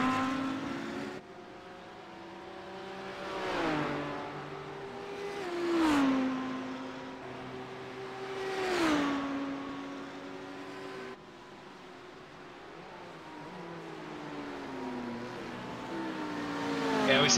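Race car engines at Long Beach in a racing video game, several rising and falling engine notes as cars power out of the last turn and pass one after another, with a faint voice underneath.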